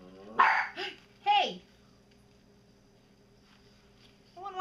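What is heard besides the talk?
puppy barking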